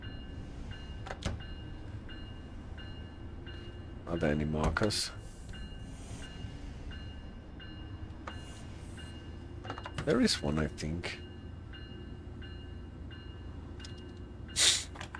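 A long passenger train on the San Bernardino Line in a train simulator game, driven from the cab car, gives a steady low rumble throughout with a few sharp tonal beeps, while someone talks over it in short bursts.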